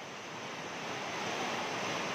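Strong typhoon wind roars steadily and loudly, a dense unbroken rush with a surf-like wash, no voices.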